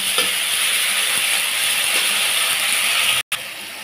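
Ginger paste and tomato sautéing in a pan for cholar dal, a continuous loud sizzle with spoon scrapes and stirring, cut by a brief silent gap near the end.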